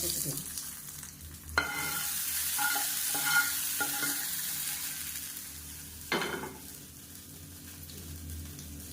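Mustard seeds, urad dal, curry leaves and dried red chilies hit hot oil for a tempering, giving a steady crackling sizzle with a few sharp pops and clatters of ingredients dropping in, no voices.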